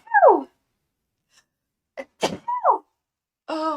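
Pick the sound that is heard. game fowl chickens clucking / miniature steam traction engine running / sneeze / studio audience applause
sneeze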